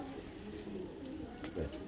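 A pigeon at a breeder's loft gives a low coo against a steady noisy background, faint and brief, with a few other bird sounds nearby.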